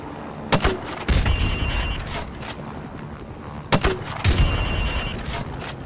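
Two loud grenade launcher rounds are fired and explode against building windows in Modern Warfare Remastered, each a sharp bang followed by a rumbling, debris-filled blast, about three seconds apart.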